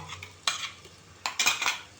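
Metal utensil scraping and stirring ground masala paste in a pressure cooker, two bursts of clattering strokes with a brief pause between, close and fairly loud.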